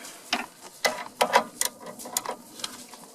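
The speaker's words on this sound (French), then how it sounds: "il n'y a plus qu'à serrer jusqu'à ce que ça arrive en butée" A hand wrench ratchets in short, clicking bursts while a stabilizer link nut is tightened on a Peugeot 206. The clicks are close and moderately quiet, with brief pauses between strokes.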